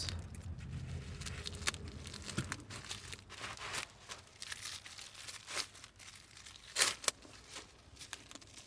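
Plastic packaging around a Dillen double pocket satchel being cut and crinkled open with scissors, a steady close rustle broken by sharper snips and crunches, with a louder crackle near the end.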